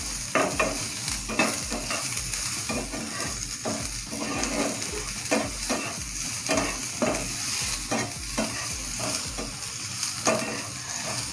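Chopped onion sautés in a pan for misal masala, crackling steadily up close while a spatula scrapes and stirs in repeated rhythmic strokes.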